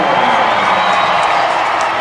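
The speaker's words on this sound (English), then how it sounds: "The home crowd erupting" Home crowd roaring and cheering at a college basketball championship game between West Texas A&M and Lubbock Christian, a loud continuous wall of cheers, whoops and applause filling the arena throughout.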